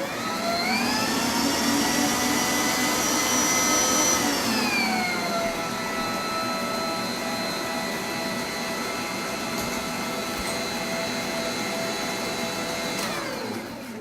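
An electric mixer steadily whips egg yolks and sweetener in a bowl, a loud continuous motor whine that drops slightly in pitch partway through and holds on until near the end.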